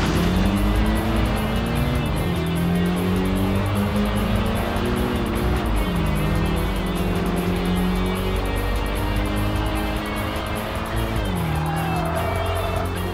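Car driving in the racing video game Tokyo Xtreme Racer Drift 2, its engine droning steadily with rising and falling revs as gears shift, loud and continuous throughout.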